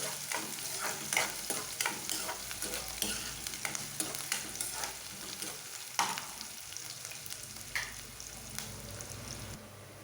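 Green chillies and other ingredients for idly upma fry in a pan while a spoon stirs, giving repeated scraping clicks over a soft continuous sizzle, moderately quiet and without voices.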